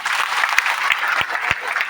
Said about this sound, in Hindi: माननीय CO मैडम के लिए एक बार सब जने जोरदार तालियां बजाएं